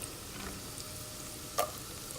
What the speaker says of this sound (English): You want to saute that a little bit.